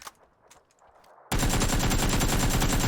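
An AKM rifle in PUBG opens fire abruptly after a quiet moment, a loud, sustained automatic burst that runs without pause to the end, alone with no talk.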